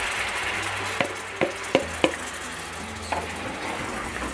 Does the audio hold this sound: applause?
no